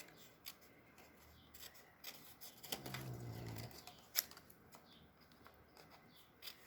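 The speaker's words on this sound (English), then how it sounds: "I just took my snips and I just started cutting little hilly" Handheld paper snips cut hilly snow-mound shapes from designer series paper for a bear-themed Christmas card: a close, rasping cutting stretch lasting about a second, then a sharp snip click, over quiet room tone.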